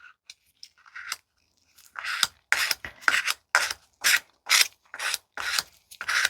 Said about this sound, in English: Scrape off everything I can because I'm going to need it.